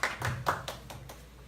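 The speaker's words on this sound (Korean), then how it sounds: "예, 힘찬 박수로 부탁드리겠습니다." Claps from an audience at a Korean care workers' union press conference welcoming a speaker: a few loud, separate hand claps in a short burst, fading over about a second and a half.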